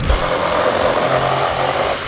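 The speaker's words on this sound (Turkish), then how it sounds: "Kılıç testere başlığı 20 santime kadar testere ucu ile demir, plastik, kemik ve ağaç gibi malzemeleri kesmede kullanabilirsiniz." Cordless reciprocating saw attachment from a Prohummer Multievo 58VF multi-tool set, made to cut iron, plastic, bone and wood, running on its own with a loud, steady, close motor buzz for the full two seconds.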